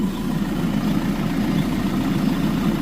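A car engine idles steadily after twenty minutes of running, giving off black and white smoke, with a constant low rumbling drone that stays even throughout.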